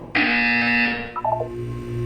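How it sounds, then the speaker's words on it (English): Buzzer in the Portal 2 video game: one loud, harsh electronic tone cuts in abruptly and holds for about a second, then gives way to a short burst of quick beeps and a low hum, with no voices. "When you hear the buzzer, look down at the floor."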